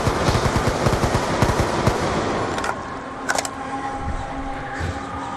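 Rapid bursts of automatic gunfire from a zombie shooter video game, dense and loud for the first two seconds, then thinning into scattered shots over a steady background.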